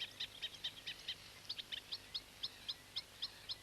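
A reed warbler sings among reed stems, a long run of rapid, evenly spaced chirps and chattering notes, bright and clear at moderate distance over a quiet outdoor hiss.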